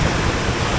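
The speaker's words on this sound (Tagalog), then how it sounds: "alon, napakalakas." Strong sea waves surge near a sea cave in Laurel, Batangas, a steady, loud broadband roar of churning surf and spray with no break across the short stretch.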